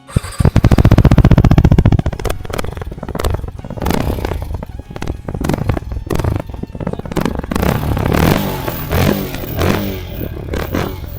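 A single-cylinder Yamaha R15 sport motorcycle exhaust roars loudly at first, then settles into a burbling, uneven idle with short blips of throttle.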